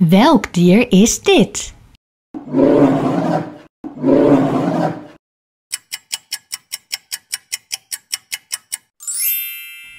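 A polar bear at a zoo gives two long, rough roaring growls, each over a second long, after a short spoken question; a steady ticking follows.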